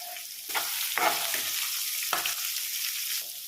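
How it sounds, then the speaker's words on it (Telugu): Carrot and beetroot fry in a pan with a bright, hissing sizzle. Several sharp scraping stir strokes break through it, and the sizzle swells after the first second, with no speech. "క్యారెట్ బీట్రూట్ రెండు వేసుకొని ఇవి ఇప్పుడు ఫ్రై చేసుకోవాలి"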